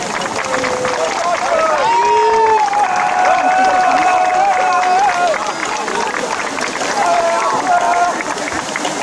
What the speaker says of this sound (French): Je pense qu'on peut les applaudir quand même.